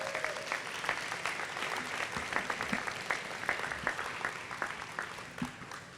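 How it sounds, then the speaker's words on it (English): Warm applause fills the room at an elementary school ribbon cutting ceremony, a steady crowd clapping for several seconds with distinct individual claps standing out before it thins. "Let's give them another round of applause."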